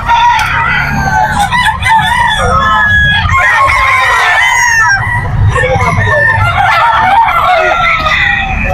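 Roosters at a crowded early-morning chicken market in Bocaue, Bulacan, several crowing and clucking loudly and overlapping over a dense background murmur of people.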